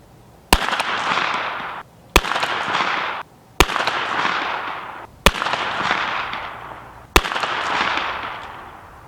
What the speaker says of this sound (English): So I went ahead and put it out to 50 yards as well, shooting the same 124 grain gold dot.